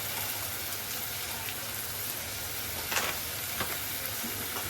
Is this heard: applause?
no